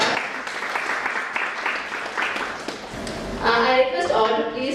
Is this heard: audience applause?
yes